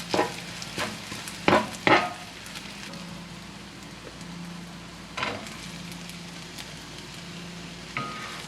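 Kimchi fried rice is stirred and folded in a hot pan, sharp scraping clacks of the utensil over a soft continuous sizzle, several strokes spaced out and then fading as the heat is cut.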